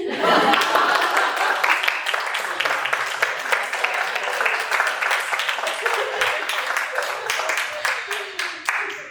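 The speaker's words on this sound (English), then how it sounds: "you can clap for us" An audience claps after a panel talk on higher education, starting as full, loud applause and thinning into rapid scattered claps before fading at the end.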